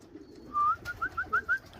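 Young racing pigeons give a short run of soft cooing notes, one longer coo followed by four quick rhythmic pulses, close by in a quiet loft with no talking.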